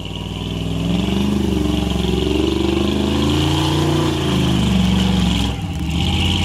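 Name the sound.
vehicle engine revving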